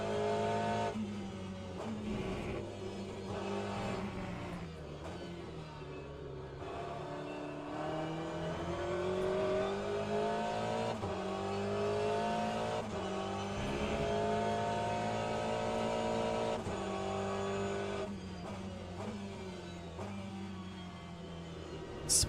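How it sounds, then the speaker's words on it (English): An Aston Martin race car in the sim racing game Le Mans Ultimate, running an Aston Cup sprint, drones continuously as the engine revs rise and fall through gear changes, steady and prominent without talk. "Oh, the Aston is so nice to drive."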